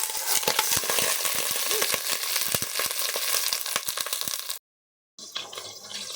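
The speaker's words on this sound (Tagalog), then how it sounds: "Saka na natin ilagay ang ating steak mga gar" Steak frying in ordinary cooking oil, a loud steady sizzle with crackling pops that runs for several seconds, then cuts to brief silence before a quieter sizzle resumes.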